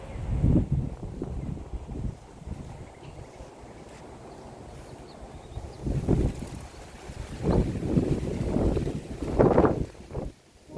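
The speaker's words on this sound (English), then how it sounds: "The wind is picking up." Wind gusts through a backyard garden in zone 9B, rumbling and buffeting the microphone in uneven surges that swell and fade across the clip.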